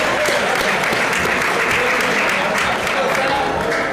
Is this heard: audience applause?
yes